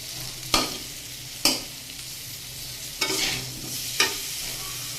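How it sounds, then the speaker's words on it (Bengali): Vegetables are stirred and fried in a pan, a spatula scraping at about four separate moments over a constant soft sizzle, heard close up with no talking. "এটাকে একটু ভালো করে ভেজে নেবে"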